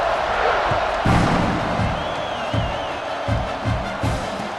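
A stadium crowd cheers in an EA Sports College Football 26 game after a touchdown drive, a dense continuous roar with bursts of louder whoops, filling the whole stretch.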